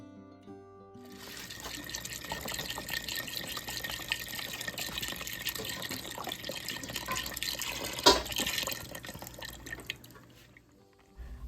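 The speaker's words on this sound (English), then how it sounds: "I like to use chicken broth as my liquid in the Instant Pot instead of water." Chicken broth poured into an Instant Pot for refried beans, a steady liquid splashing and filling sound running close and continuous for most of the clip, with a sharper clink near the end before it trails off.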